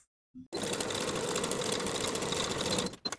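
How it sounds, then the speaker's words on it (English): A sewing machine stitches a French seam with a 3/8 inch allowance on a woven romper pocket, running in one steady, loud, continuous burst for over two seconds after a brief start, then stopping with a couple of short bumps. "Now sew this French seam with a 3/8 inch seam allowance."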